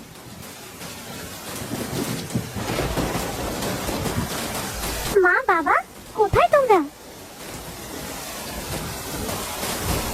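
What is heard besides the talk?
heavy rain with storm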